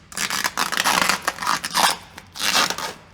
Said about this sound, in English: just remember to peel back this foil